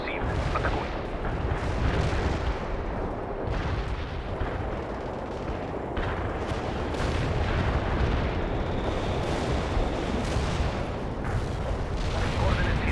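Artillery barrage in the real-time strategy game World in Conflict, a continuous heavy rumble of shell impacts and booms rolling on throughout, loud and dense with occasional sharper bursts, faint radio voices now and then.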